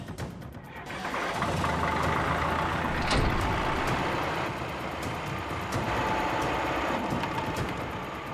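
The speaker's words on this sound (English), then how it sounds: "Now all Brendan has to do is step on the gas." A pickup truck engine revs loud and steady as the gas is pressed during a house-demolition stunt, a sustained low roar holding for several seconds.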